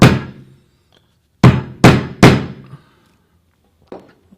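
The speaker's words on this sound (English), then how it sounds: "we're just going to hammer it and see if we can get that to click in" A big hammer strikes a part to click it into place: one heavy blow, a pause, then three quick loud thuds in a row, with a faint tap afterward, close and clear with no talking.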